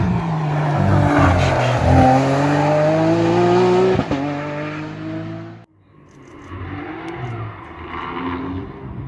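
A Lamborghini Aventador SVJ runs on track during test runs, its engine loud and close, revving up through rising gears with tire squeal, then a brief drop before the engine sound builds again at a distance.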